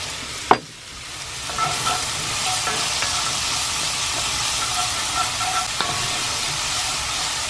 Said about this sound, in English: Just gonna cook it down a little bit till it gets soft.